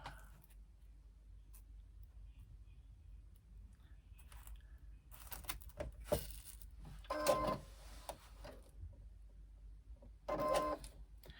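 A sewing machine stitches a backpack in a quiet room, giving two short bursts of rapid mechanical clatter separated by a few seconds of faint handling noise.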